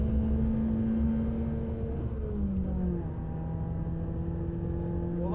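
Racing car engine droning loud and close through a corner taken at full speed, the pitch sliding down and then climbing again as it drives out of the corner, no speech.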